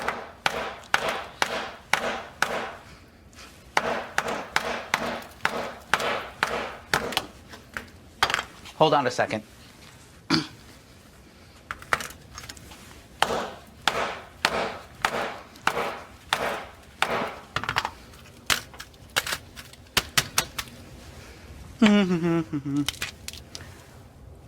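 Repeated sharp, hard hammer strikes smashing an iPhone, landing in bursts, loud and close, with a brief spoken remark between blows.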